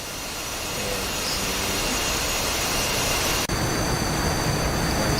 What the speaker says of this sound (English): Those A-10s are getting close to the runway